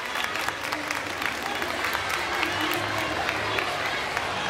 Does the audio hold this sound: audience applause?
yes